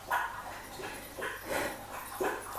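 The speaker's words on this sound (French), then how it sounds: "Je suis désolée pour les bruits de chien," A dog whimpers and makes soft yipping noises in a repeated run of short cries, moderately close and heard with no talking over it.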